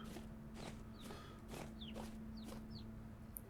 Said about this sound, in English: That's a baby chicken.